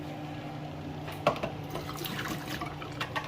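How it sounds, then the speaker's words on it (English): Half a cup of water poured out from a measuring cup in a home kitchen, a short splash followed by a steady liquid trickle, close and fairly quiet. "I'm gonna discard this half a cup of water."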